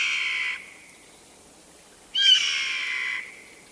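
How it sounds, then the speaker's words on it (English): A Steller's jay (Cyanocitta stelleri) gives two harsh, raspy calls, each about half a second to a second long and separated by a pause, clear and close against a quiet background. "And that sound was made by the Steller's jay"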